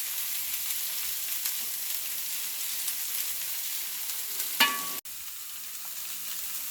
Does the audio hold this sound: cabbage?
yes